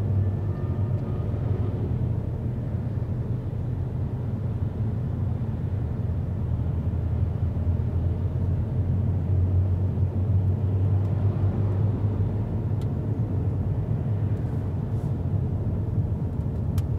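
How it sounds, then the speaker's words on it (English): A car driving with its assist system handling the gas and braking, heard from inside as a steady low engine and road rumble that holds evenly throughout with no distinct changes and no talking. "the car is doing everything automatically, adding gas, braking"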